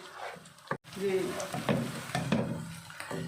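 Garlic, ginger and almonds frying in oil in a pan for a garlic-ginger curry, giving a steady close sizzle with soft stirring scrapes and one brief sharp knock partway through.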